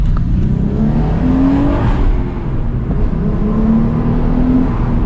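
A Hyundai Tiburon engine with its stock exhaust revs up and settles several times, loud and close, with a steady low exhaust tone and a whirring intake noise, no talking.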